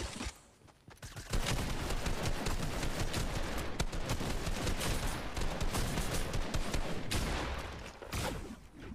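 Rapid automatic gunfire rattles almost without a break in a video game shooter, dense and loud from the first second to the last, with only a brief quieter gap near the start and no voices.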